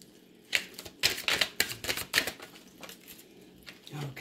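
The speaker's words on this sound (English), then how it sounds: "One more shuffle." A deck of oracle cards being shuffled, a few quick riffling and flapping bursts in an irregular rhythm, close and fairly quiet.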